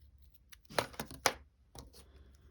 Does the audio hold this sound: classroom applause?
no